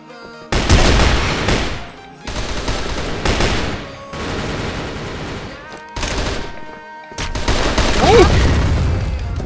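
FN-FAL rifle fire in the video game CrossFire Vietnam comes as four loud, close bursts of rapid shots, each a second or two long and separated by brief gaps, with no one speaking over them.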